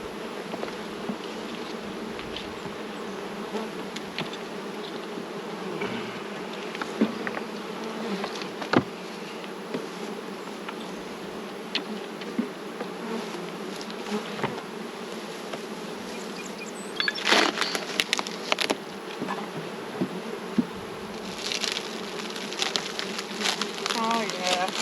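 Honey bees hum steadily inside a hive while frames are moved from a nuc into a ten-frame box, a dense continuous buzz up close with occasional sharper knocks and brief louder swells.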